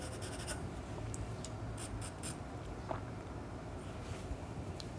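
A pencil sketches a portrait on paper, soft scratching strokes that come in short bursts and quiet rubbing, close and faint with no talking.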